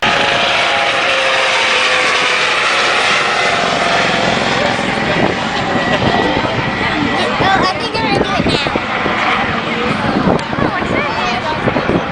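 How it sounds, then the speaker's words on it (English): A search and rescue aircraft flies over the area at a 2009 NAS Whiting Field open house demonstration: a loud, continuous engine and rotor drone throughout, with a voice talking over it. "the aircraft will zigzag the area until the person is found"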